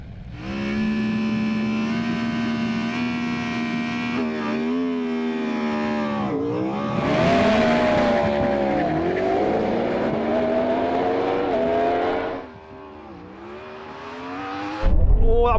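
Drag race between a Yamaha R1 motorbike, a Porsche Taycan Turbo GT and a Ferrari SF90: loud, sustained engine roar with a rising whine and rapid gear-change dips, then a surging howl as the machines accelerate hard away.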